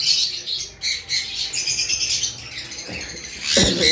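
Lovebirds, including Parblue and Parblue violet mutations, give shrill squawks and chirps in a steady overlapping chatter, with a louder burst of calls near the end.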